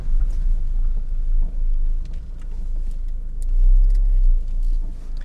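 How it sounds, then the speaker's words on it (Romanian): A car approaches and passes on a rural paved commune road, a low rumbling engine swelling and fading twice over a few seconds with faint wind and ticking around it. "Opa, vine o mașină."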